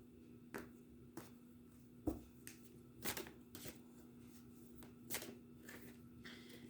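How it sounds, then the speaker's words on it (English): Several crisp riffles and snaps of a card deck being shuffled, in short irregular bursts close by, fairly quiet with no speech. "I'm going to shuffle them a bit more"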